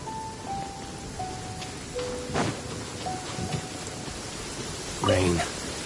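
Steady rain hisses across an outdoor scene in the video game Genshin Impact, a continuous wash of falling water under soft music tones, with a few brief clicks and a short voice near the end.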